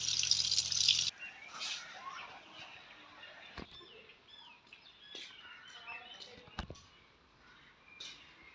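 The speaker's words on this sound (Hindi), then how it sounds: "और अभी जो है ना मैं बस इसको धो रही हूँ अच्छी तरह से।" Marinated food coated in salt and masala is rinsed under running water, a soft splashing trickle after a louder opening burst, with faint birdsong and occasional sharp clicks in the background.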